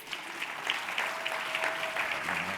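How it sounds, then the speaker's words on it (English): A steady wash of applause at a plenary luncheon honoring mayors, fairly faint and even, with dense clapping that holds throughout and no talk over it. "A big round of applause for our mayors"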